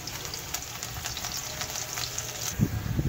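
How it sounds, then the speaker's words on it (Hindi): Garlic frying in moderately hot oil gives a continuous close crackling sizzle, with a few soft stirring knocks near the end and no voices. "अब इसमें सबसे पहले लहसुन भून लेंगे।"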